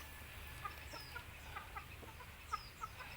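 Chickens around a farm hut on land being prepared for planting give scattered short clucks at a few moments over a faint outdoor background.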